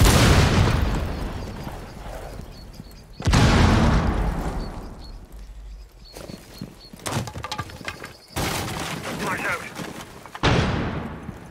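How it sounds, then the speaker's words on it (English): In Rainbow Six Siege, frag grenades go off in heavy booming blasts that fade into long rumbling decays, several detonations spaced seconds apart amid gunfire and game noise, loud and close. "Throwing frag grenade"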